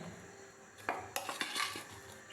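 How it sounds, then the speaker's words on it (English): A spoon clatters and scrapes against a bowl while mashed Irish potatoes are mixed with corn flour, giving a few close, sharp knocks in a quiet kitchen. "You see the way I'm mixing it."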